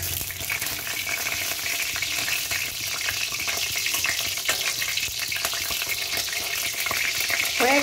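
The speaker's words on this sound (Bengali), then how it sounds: "একটু কালো জিরে ফোড়ন দেব, এইটুকু কালো জিরে দিলাম" Nigella seeds sizzle and crackle in hot oil as they temper for a prawn and yam-stalk curry, a dense, steady frying hiss heard close and alone that swells slightly toward the end.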